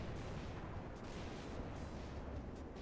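Aircraft guns firing during a P-47 dogfight in War Thunder, a dense, continuous roar of rapid gunfire that stays loud and steady without pauses.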